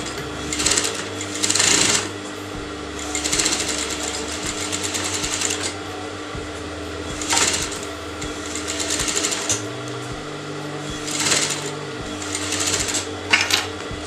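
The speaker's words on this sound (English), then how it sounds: "So now you're going to sew the inner edge of the neckline" A sewing machine stitches the inner edge of a fabric neckline in repeated bursts of fast motor whirring and needle clatter, separated by short pauses and quiet handling sounds.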